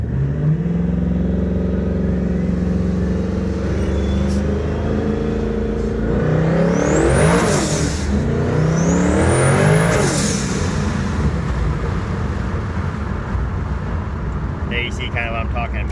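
A twin-turbo Ford Mustang S550 with a top-mount turbo kit accelerating from a roll, engine rising through gears with climbing whine and turbo whistle, loud and close, settling to a steady drone, with someone talking over it.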